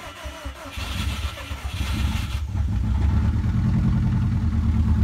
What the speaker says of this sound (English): Never had this cool ass feeling of like starting a car that we worked on.